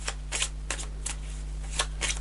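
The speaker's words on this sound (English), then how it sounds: "I'll do a couple more shuffles." Tarot cards being shuffled by hand, several quick riffling bursts spaced irregularly across a couple of seconds, close and fairly quiet, with no voices.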